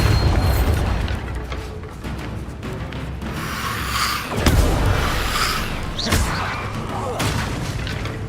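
Bombarda spell explosions in Hogwarts Legacy: a few deep booming blasts with rumbling bursts, mixed with game effects and a spell-casting voice.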